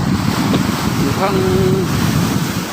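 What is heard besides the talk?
strong waves crashing on the shore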